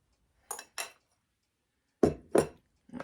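Instant pistachio pudding mix and flour being stirred in a bowl for Christmas thumbprint cookies, heard as a few sharp clinks and knocks of a utensil against the bowl, two pairs of taps with pauses between, close and without talk.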